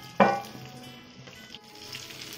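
Fish frying for meen pollichathu in a covered pan, giving a soft, steady sizzle with a sharp clink near the start, faint and close, with no voices.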